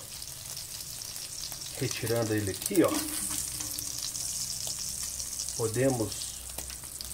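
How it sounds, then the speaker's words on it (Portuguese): Bacon frying in a pan for Brazilian feijão tropeiro, a steady crackling sizzle running under a voice speaking Portuguese throughout. "nosso bacon ele já está bem fritinho, bem suculento"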